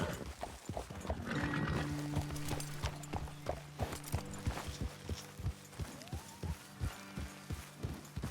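Horses in Red Dead Redemption 2 clip-clop at a walk on hard ground, a steady close rhythm of hoof strikes with a brief whinny-like tone early on, then slowing toward a halt.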